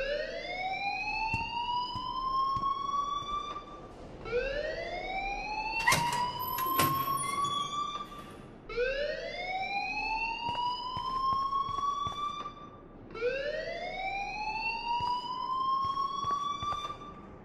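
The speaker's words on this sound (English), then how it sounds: "please turn off that alarm" A repeating electronic alarm in the video game Life is Strange, rising whoops sounding four times in a steady cycle, loud and close, with a brief clatter partway through and no talking.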